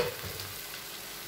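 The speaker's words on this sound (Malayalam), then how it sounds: "അപ്പം നമ്മുടെ വെളുത്തുള്ളി ഇഞ്ചിയൊക്കെ ഇപ്പം നല്ലപോലെ വഴന്നു വന്നിട്ടുണ്ട്" Garlic and ginger sauté in a hot pan as the base for a Kerala-style mango pickle, giving off a steady, soft sizzle over a short moment.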